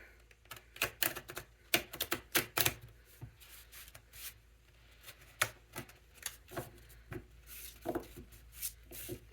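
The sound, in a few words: shuffling tarot cards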